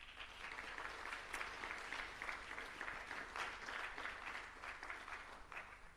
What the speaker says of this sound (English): I will kindly ask you again to offer him a round of applause.